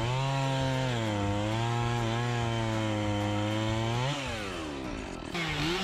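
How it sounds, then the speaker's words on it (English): A small gas chainsaw cuts through a knotty wood log with a loud, steady buzzing engine drone that dips in pitch near the end as the cut finishes. "The small gas saw was a bit faster, even after going through a knot in the wood"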